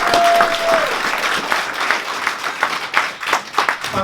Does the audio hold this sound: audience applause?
yes